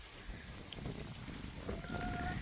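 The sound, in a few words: rain falling outside in Sacramento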